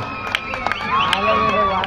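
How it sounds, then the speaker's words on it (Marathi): Cheering crowd at a state-level kabaddi tournament match, a dense roar of voices and whistles with scattered claps, loud and steady throughout with no clear talk. "प्रचंड टाळ्यांचा कडकडाट करूया"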